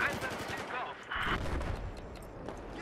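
Game gunfire in a Battlefield 4 multiplayer Conquest match on Golmud Railway, a mix of rattling automatic bursts and single shots, fairly distant and layered under a busy battle soundscape.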